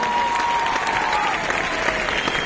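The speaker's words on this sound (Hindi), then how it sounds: "एक बार हमारे पिताजी के लिए डायरेक्ट दिल से तालियां हो जाएगी।" An audience at a Safe Shop Diamond recognition event claps steadily in a continuous, moderately loud round of applause for a father.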